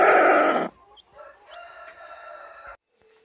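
Cochin chicks and hens calling nearby: a loud, harsh squawk, a brief pause, then a longer, softer run of clucking.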